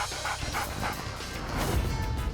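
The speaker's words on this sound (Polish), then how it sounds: "Pies zlitował się nad Homerem" Short dog barks and yips from a cartoon dog in The Simpsons, repeating over a dense background of music and effects for a couple of seconds.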